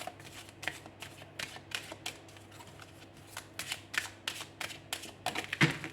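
Tarot cards shuffled and drawn, a quick series of soft flicking riffles and snaps close by at low volume, with no speech.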